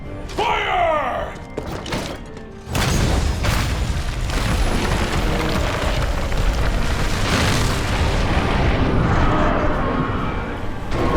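Cannon fire in the Monster Hunter World video game, a heavy boom followed by a sustained roar of rumbling explosions and debris that stays loud and dense for about nine seconds.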